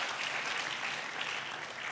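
A church congregation bursts into sustained applause at a New Year service, a dense, even roar of clapping hands that stays steady and fairly close throughout with no voices over it.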